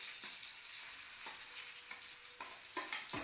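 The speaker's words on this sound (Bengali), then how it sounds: "পুরটা তেলের মধ্যে দিয়ে দিলাম।" Pea filling for kachori fries in hot oil in a kadai, a steady bright sizzle heard close, with several sharp stirring scrapes breaking through at intervals.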